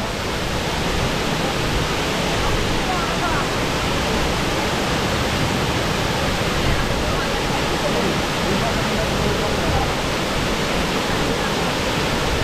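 Water pours out in a loud, constant roar like a waterfall, a thick rushing wash of sound that holds steady from start to finish at close range.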